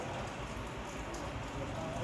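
Rain falls at night in a steady, soft patter and hiss that stays even throughout, quiet and close, with a faint voice in the background.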